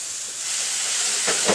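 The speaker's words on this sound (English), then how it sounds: "Hear that sizzle? That's a nice hot pan." Steady, bright sizzling from a grilled cheese sandwich frying in a hot pan, close and continuous, with a couple of faint clicks near the end.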